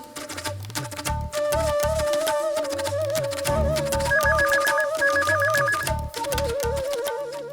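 A phone ringtone plays loudly and continuously, a repeating electronic melody with no one speaking over it.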